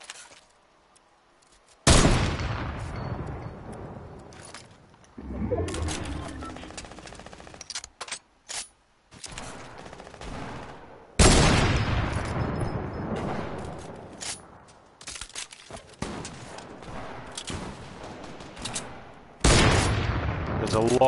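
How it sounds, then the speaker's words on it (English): Rapid bursts of video game gunfire in a multiplayer match: loud automatic fusillades and single shots that come in several dense clusters with short quiet gaps between them, near and punchy. "There's a lot of shooting going on, people."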